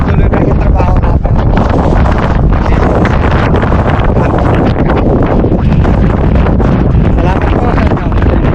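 Strong sea wind roars aboard a ship, a loud, continuous rush that buffets the microphone without a break, with no voices heard.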